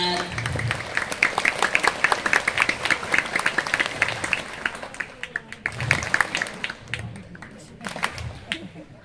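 An audience at an Indonesian Islamic preaching session claps in a patterned rhythm, sharp hand claps grouped in bursts that repeat across several seconds, with voices calling out among the claps.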